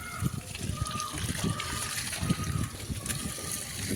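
Water from a motor pump splashes and gushes steadily onto garden plants, a continuous wet spattering with low rumbling bursts, fairly close, no voices.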